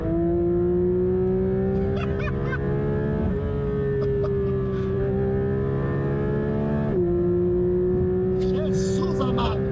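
A Porsche 911 GT3 RS 992 accelerating on the road, its engine droning loud and steady with pitch dips at gear changes, while a voice talks over it at times.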